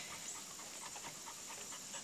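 Quiet, rapid dog panting close by, a soft breathy rhythm repeating steadily against faint background hiss, with no talk.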